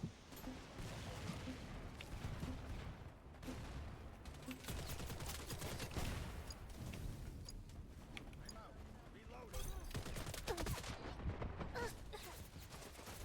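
Gunfire in the multiplayer shooter video game Wild Assault, dense continuous bursts of automatic weapon fire and heavy impacts layered over one another, loud and chaotic for the whole stretch with no pause.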